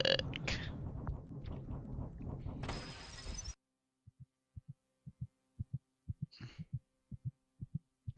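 A heartbeat in the horror game Doctor Nowhere thumps in low, soft paired beats at a steady pace after a burst of dense noise, alone and close in an otherwise quiet space.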